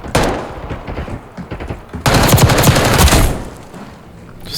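Automatic weapons fire in Call of Duty Black Ops 6, dense loud rattling bursts close up, one short then a longer sustained volley before fading, with no talking.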